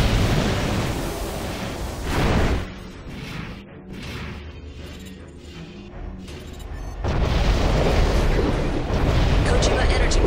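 A massive explosion of the Kojima energy plant in Armored Core: For Answer, with a heavy roaring blast that swells, dips into a lower rumble, then surges again into a sustained loud roar.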